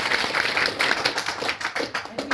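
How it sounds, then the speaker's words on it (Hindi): An audience at a business seminar claps, a loose burst of hand clapping that thins into scattered claps toward the end, close and fairly loud. "अभी एक बार ताली बजा"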